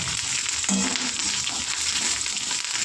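Curry leaves and coriander sizzle in hot oil for poha, a steady close crackle with a brief sharper pop near the start and no voices.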